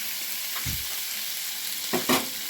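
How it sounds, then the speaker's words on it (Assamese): Duck meat and potatoes being turned in a hot pan under a constant sizzle, with a soft scrape near the start and two louder stirring scrapes near the end. "মাংসখিনি লৰাই দিছোঁ।"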